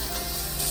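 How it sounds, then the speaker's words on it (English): Running water rinsing out a jar that held fresh goat's milk, a brief, close, steady hiss of spraying water. "I'm actually gonna rinse this jar real quick."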